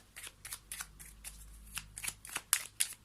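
Tarot cards being handled and shuffled, a series of crisp papery slaps and riffles in irregular bursts, close and fairly quiet with no voices.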